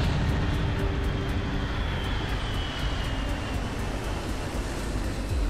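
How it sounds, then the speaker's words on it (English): A loud, steady engine roar from a large airplane in the video game Ghost Recon Future Soldier drones continuously, close and unbroken, with a faint higher whine riding on top. "Man, that plane is loud."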